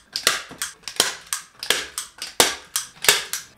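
A staple gun fires repeatedly into felt and mosquito mesh, about a dozen sharp close snaps in a quick, fairly even rhythm, with no voices.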